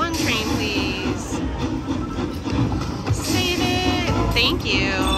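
Chugging train sound effects with whistle-like tones over a busy electronic soundtrack from an All Aboard slot machine, with a voice talking in the background.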